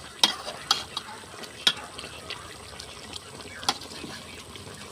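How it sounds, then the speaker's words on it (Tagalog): Coconut milk (gata) simmering in a pot with tulingan (skipjack tuna) for ginataang tulingan: a soft bubbling hiss broken by a few sharp pops and occasional stirring, with no clear speech. "Pakuluan lang po natin ito kasi marami-rami pa po yung gata niya."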